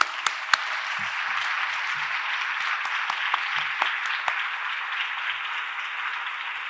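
Steady applause from a crowd fills the room, a dense wash of clapping with a few sharper claps and faint murmurs underneath.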